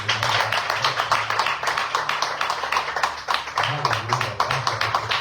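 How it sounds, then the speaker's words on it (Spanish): A Spanish-speaking church congregation gives loud applause, with sharp, closely spaced claps in a rhythmic, near-steady pattern and a low hum beneath. "Dale un fuerte aplauso."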